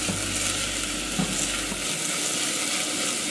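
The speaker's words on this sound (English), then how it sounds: "we're just gonna sweat this with the onions" Minced garlic and onions sweat gently in a pan for a tomato mother sauce, a dense, continuous close sizzle with a low hum fading out partway through, and no voices.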